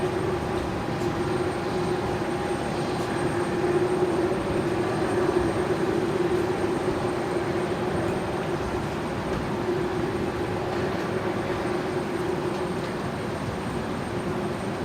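Aircraft engine noise at Brisbane Airport at night, a steady broadband roar with a faint tonal hum holding level for the whole stretch, swelling slightly in the middle, with no talk over it.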